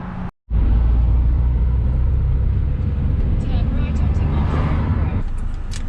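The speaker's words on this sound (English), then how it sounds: "Currently battling London traffic, which is what this car has done its whole life" 1999 Renault Clio 1.6 Initiale automatic crawling through London traffic, a steady low engine and road rumble from inside the cabin after a brief cut at the start, with some talking over it.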